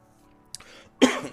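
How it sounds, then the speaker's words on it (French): A person coughs a couple of times close to the mic, first a short throat-clearing catch and then a louder, harsher cough, with quiet background before it. "Désolé si je tousse un peu"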